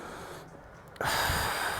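A deep breath is drawn in during a thoracic-spine stretching drill on a stability ball. It starts as a quiet airy draw, then swells into a loud, rushing inhale, close and unaccompanied by talk.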